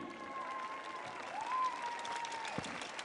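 Audience members at a World Cup cooking competition applaud the jury as the judges take their seats, a soft, distant patter of clapping under a faint sustained tone and a brief low thump near the end.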